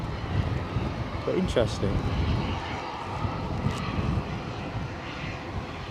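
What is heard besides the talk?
SunExpress airplane taxiing at Edinburgh airport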